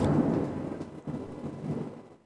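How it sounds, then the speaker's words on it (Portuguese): Thunderstorm with steady, heavy rain and a low, rolling rumble of thunder swelling and fading continuously throughout, with no voices. "Tá chovendo aqui, pessoal. Vai chover, vai cair uma tempestade hoje"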